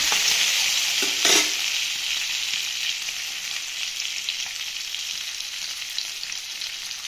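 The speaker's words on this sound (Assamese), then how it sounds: "পিঁয়াজবোৰ ভজা হৈছে" Onions fry in a hot pan, a steady bright sizzle throughout, with a brief scrape of stirring near the start and no voices.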